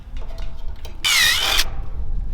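A power drill pre-drills holes in a roof gutter during installation, one loud steady whine lasting about half a second with a slight pitch wobble, set between quieter handling knocks.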